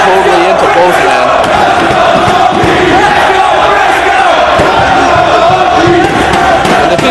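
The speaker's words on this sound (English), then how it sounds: "there you hear the crowd totally into both men" A dense, roaring crowd at a 2004 Ring of Honor professional wrestling event, Death Before Dishonor II, cheers loudly and steadily, with shouting voices blending into a constant wall of noise.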